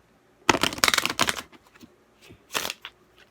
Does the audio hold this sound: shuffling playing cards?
yes